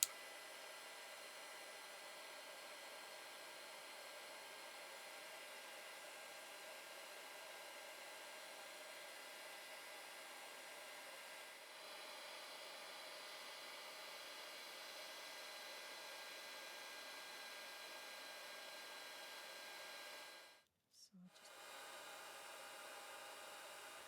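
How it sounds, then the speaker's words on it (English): A heat gun blows steadily, melting embossing powder on a mixed-media junk journal tag, a continuous airy roar lasting about twenty seconds before cutting off briefly and resuming. "with the heat gun, I'm just going to melt the embossing powder"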